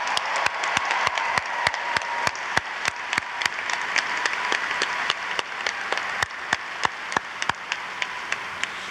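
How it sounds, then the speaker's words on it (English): An audience gives applause at a 150th Charter Day celebration, though the sound is mostly sharp, evenly spaced single claps standing out over a dense wash of clapping, sustained throughout with no talking. "let's get one more big round of applause for Candace Johnson."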